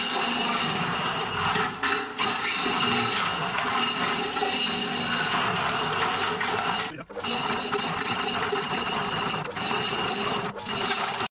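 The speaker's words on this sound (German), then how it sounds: "Da ist die Pumpe an." A pump runs during a DIY pool renovation, a loud, continuous mechanical whir with a few brief dips.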